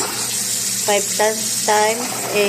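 Tap water runs steadily over raw chicken being rinsed for mandi, close and continuous, while someone talks over it.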